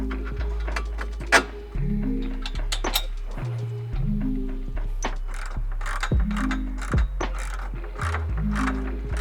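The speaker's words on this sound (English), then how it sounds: "we'll focus on bolting the tube onto the arms" A ratchet wrench clicks rapidly and loudly in repeated bursts while tightening dome-head bolts that fix a tube onto mounting arms, with metallic clinks between the strokes.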